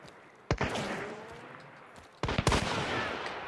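Two loud, sharp gunshots ring out in a Hunt: Showdown match, roughly two seconds apart, each followed by a rolling echo and crackling reverberation.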